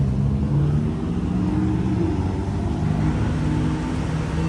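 A Shelby GT500 engine runs with a steady, deep low rumble and sustained throttle, close and loud throughout with no clear peaks, at a fuel station setting.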